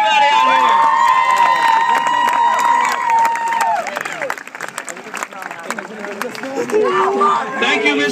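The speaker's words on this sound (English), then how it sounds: "Ladies and gentlemen, one more time, a huge round of applause for everybody out here." Audience applause and cheering at the Roma Gladiator Awards ceremony rise under a loud ringing tone and voices, a dense crowd clatter that carries on with chatter mixed in.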